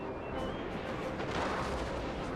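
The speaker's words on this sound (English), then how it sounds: "Oh yeah, love the sounds of cannons." Cannon fire from artillery in the Napoleonic-era strategy game Total War: Napoleon, a dense, steady roar of booming shots and battle noise blending together without a clear break.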